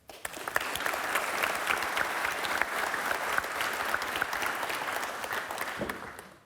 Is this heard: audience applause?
yes